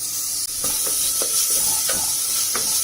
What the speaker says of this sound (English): Just simmer this, the coarsely ground paste.